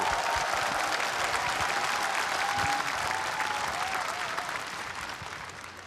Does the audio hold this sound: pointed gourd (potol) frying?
no